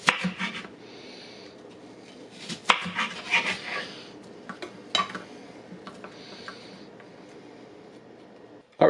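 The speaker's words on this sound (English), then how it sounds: "we just finished chopping up all the onions" Irregular knife chops and scraping taps as onions are chopped on a cutting board, quick bursts with pauses between, near and fairly quiet.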